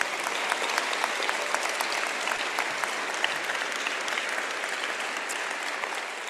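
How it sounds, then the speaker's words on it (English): Sustained applause from a large audience at a university convocation, steady dense clapping filling the hall throughout without a break. "could we please give another round of applause for Ellen?"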